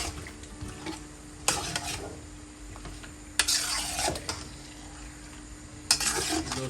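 Onions and chicken for a chicken karahi cook in a pan with a low steady sizzle, broken by a few louder scraping stirs of a utensil against the metal, fairly quiet and alone.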